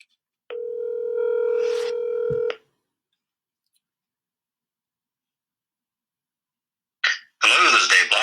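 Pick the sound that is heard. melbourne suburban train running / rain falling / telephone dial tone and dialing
telephone dial tone and dialing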